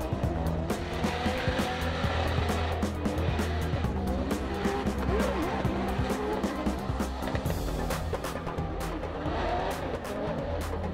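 Formula Drift cars race through the Long Beach streets, engines roaring and revving hard while tires squeal and screech in repeated bursts, close and loud throughout.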